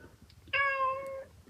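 A pregnant barn cat gives one drawn-out, close meow lasting nearly a second, clear above a quiet, low background murmur.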